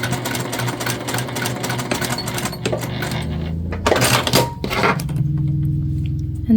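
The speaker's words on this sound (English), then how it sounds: "we're just going to top stitch with 1/8 of an inch" A sewing machine top-stitches swim fabric for a scrunchie at an eighth of an inch, running in a steady rapid mechanical chatter that briefly stops and restarts.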